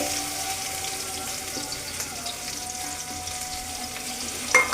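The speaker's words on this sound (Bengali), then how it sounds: "চালটা ভেজে নিন।" Rice sizzling steadily in hot oil with bay leaves, cardamom and garam masala for hilsa pulao, a continuous close frying hiss with faint stirring and a short clatter near the end.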